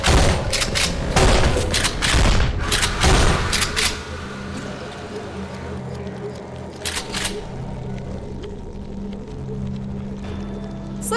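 A slow explosion goes off in the video game Dread X Collection 2, a burst of loud crackling booms and rapid pops that fades into a low droning hum, with someone talking briefly.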